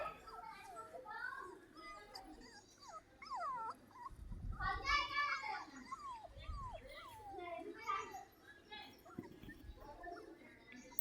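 Street-dog puppies whimper and squeal faintly as they try to drink milk, with soft dog noises and children's voices chattering over them.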